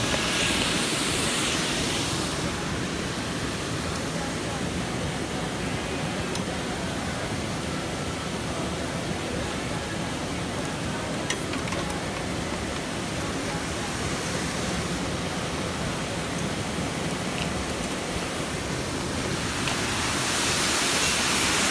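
Water rushing out through an opened dam gate into a dirty river beside rice fields, a steady broad roar that stays loud and constant throughout without voices standing out.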